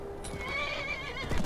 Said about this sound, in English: I don't want to ride the horse